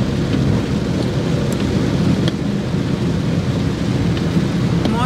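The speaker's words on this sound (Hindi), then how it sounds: "ये देखिए फ्रेंड्स झमाझम बारिश हो रही है" Heavy monsoon rain pouring down near a temple in Virar, a loud, dense, unbroken roar with low rumbling that fits distant thunder.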